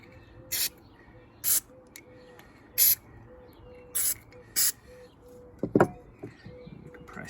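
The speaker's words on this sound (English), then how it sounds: "So we're going to squirt the carburettor cleaner." Carburettor cleaner is squirted into the small holes of a Suffolk Zenith carburettor in short hissing bursts, six of them spaced about a second apart, each loud and close over a faint background.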